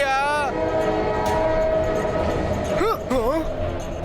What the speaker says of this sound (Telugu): అతను చట్టాన్ సింగ్ ట్రైన్ ఆపాలనుకుంటున్నాడు.